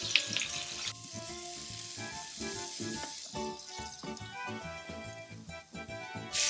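Salmon fillets frying in a pan until crispy, a steady loud sizzle with spitting crackles and pan clatter, with background music running throughout.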